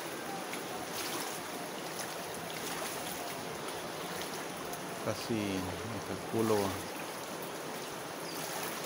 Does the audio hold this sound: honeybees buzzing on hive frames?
no